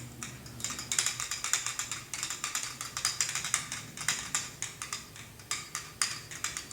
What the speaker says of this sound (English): This is a self-tapping screw. Go ahead and drive this one here.